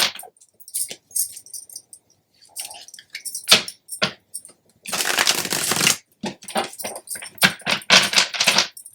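Tarot card deck being shuffled by hand, with soft riffling bursts, short papery flicks and one longer continuous riffle, close and fairly quiet.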